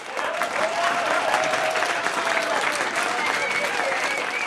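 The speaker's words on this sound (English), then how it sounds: "let's give a big round of applause" A studio audience applauds at a TV show taping, steady dense clapping filling the room at full level with some crowd noise, lasting throughout.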